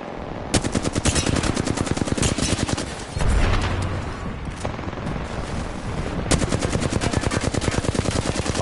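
Rapid automatic gunfire in the video game Apex Legends rattles almost without pause, loud and dense, with a brief heavier boom partway through and no talk over it.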